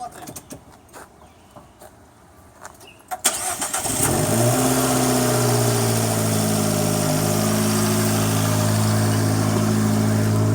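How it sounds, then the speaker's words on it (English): A 2013 Dodge Dart with the 1.4 turbo engine cold-starts after about three seconds of quiet, cranking briefly, then settles into a steady, loud idle up close that holds to the end. "That was probably the most easy cold start I've heard this thing have in a while."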